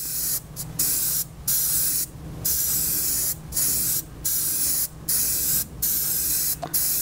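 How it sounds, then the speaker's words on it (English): A spray can or airbrush applies black paint to a fishing lure in a series of short, even hissing bursts separated by brief pauses, close and clear with no talking. "Just get kind of that nice even spray on each side."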